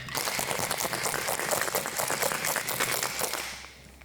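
Cold cream is whipped briskly for an Irish coffee, a dense continuous rattling whir of a whisk or frother that runs steadily and then tapers off at the end.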